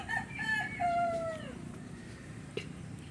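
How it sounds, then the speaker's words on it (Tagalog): A rooster crows at close range, one long rising and falling call over the first second and a half, from chickens kept next door to a rice farm. Faint clucks and background noise follow. "May mga manok naman dito sa kapitbahay."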